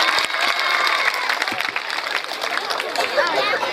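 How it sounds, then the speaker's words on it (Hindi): Loud, sustained applause from an audience at a school function in India, dense clapping continuing steadily throughout with some crowd noise mixed in. "एक बार जोरदार तालियां।"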